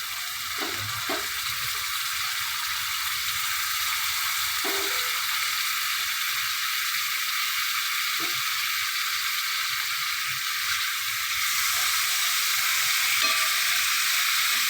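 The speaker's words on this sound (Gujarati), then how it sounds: "हवे मरचुं शेकाई गया बाद एमां नाखीशुं होजरी।" Goat tripe with roasted chillies fries in a pan, a steady bright sizzle holding at moderate level for the whole stretch, broken by a few soft clicks of stirring and no voices.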